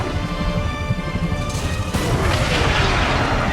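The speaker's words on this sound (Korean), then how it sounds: "결국 상대가 되지 못하고 우주선마저 폭발시키죠." A spaceship blows up in the science-fiction film Predator: Badlands, a loud deep boom bursting out of an already rumbling, noisy soundtrack and rolling on as a sustained roar.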